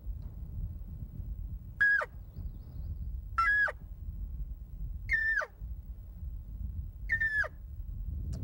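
Four drawn-out, pleading mews from a call imitating a lost elk cow trying to rejoin the herd, each a high, strained note falling at the end, evenly spaced and close over low background noise.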